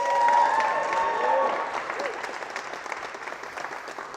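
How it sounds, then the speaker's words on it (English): Audience applause at a motivational seminar, a steady roar of many clapping hands that stays full and close throughout, with a few faint voices underneath. "Another big round of applause for my beautiful bride, Erica."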